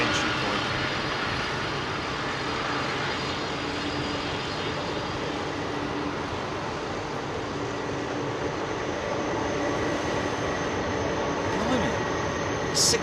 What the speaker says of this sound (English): Love the old 767 rolling up to the entry point.